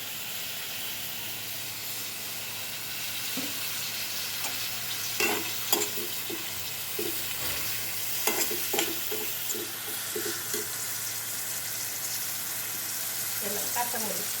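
Oil hissing and frying in a pan as ingredients are stirred, a steady sizzle with scattered soft scraping taps of a utensil, and a voice speaking briefly now and then.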